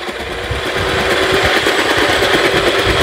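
A food processor chops more than half a kilo of onions, its motor a loud, steady whirring drone with a fast rhythmic chatter of blades striking the onion pieces, running continuously and without pause.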